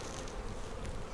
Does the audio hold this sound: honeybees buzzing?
yes